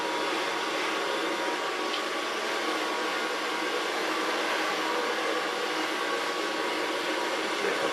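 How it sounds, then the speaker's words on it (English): A hair dryer blows steadily and loudly on freshly cut, turquoise-dyed hair during a long-to-short haircut, a constant close whooshing roar with no breaks and no talking. "So far blow drying."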